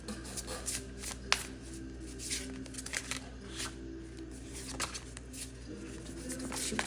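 A deck of cards is shuffled close up, quiet crisp riffles and flicks in short bursts with soft handling sounds between.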